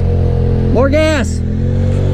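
SXS side-by-side engine on a steep hill climb, a brief revving surge that rises and falls over a steady loud engine drone, with a voice shouting over it.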